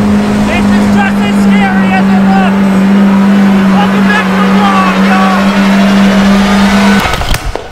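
A Lamborghini Aventador supercar engine holds a loud, steady drone while voices talk over it, and the drone cuts off just before the end.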